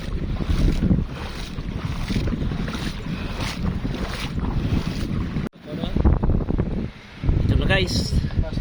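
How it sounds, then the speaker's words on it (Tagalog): A boat engine drones steadily under heavy wind buffeting, with people talking nearby and a brief dropout midway. "yan yung bangka namin na sasakyan"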